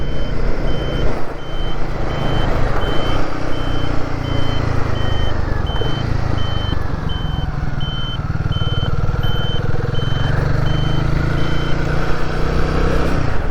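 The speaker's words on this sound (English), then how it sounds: "So the indicators are on. The buzzer is now sounding." The indicator warning buzzer on a Royal Enfield Guerrilla 450 motorcycle beeps in a steady, evenly spaced series of short pulses. It continues for over ten seconds, thin against a loud rumble of engine and wind.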